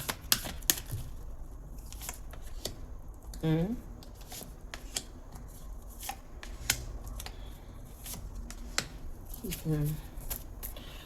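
Energy cards being shuffled and handled for a card reading, with soft papery riffles and sharp taps scattered through, while someone talks quietly at intervals.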